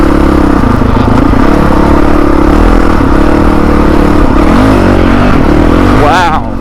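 A Honda dirt bike engine runs loud and close, holding a steady buzzing drone with shifting pitch and a quick rev near the end, while a voice talks over it.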